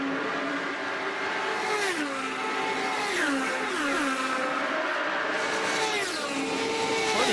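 IndyCar race cars battle through turns during the Cafe do Brasil Indy 300 at Homestead, Florida, in 2010, engines whining and rising in pitch in repeated overlapping sweeps as several cars accelerate past, loud and continuous.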